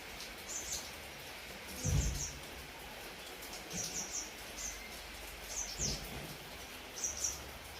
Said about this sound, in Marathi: बघितलं कसं चाललं आहे पाऊस टपुक टपुक टपुक टपुक टपूक